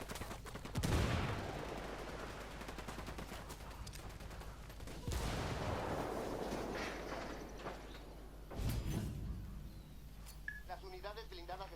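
Frag grenade blasts and rapid gunfire in the Ghost Recon Wildlands video game, with loud bursts near the start, middle and end over a steady din of shooting while people talk.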